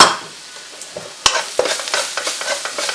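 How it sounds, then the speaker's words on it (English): Turmeric, coriander powder and chili powder fry in a hot pan for a Quorn jalfrezi, a soft sizzle broken by sharp scrapes and clatters of stirring that grow busier toward the end. "it's just cooking those masalas in there"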